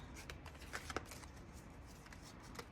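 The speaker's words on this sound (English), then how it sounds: "It's so hard to shuffle these little cards." Small tarot cards being shuffled close by, quick riffling bursts and soft flicks repeating in short, uneven runs.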